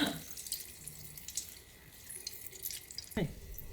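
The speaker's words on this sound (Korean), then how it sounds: "으깬 두부를 면볼을 이용해서 꼭 짤 거예요." Water drips and trickles faintly while mashed tofu is squeezed in a cotton cloth. The sound is soft and close, with small splashes and a brief sharper splatter near the end, and the kitchen is otherwise quiet.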